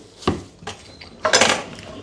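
A kitchen knife chopping carrot and pumpkin on a board for a lentil soup and salad, giving a few sharp cuts spaced apart, then a louder burst of clattering strokes, close and alone.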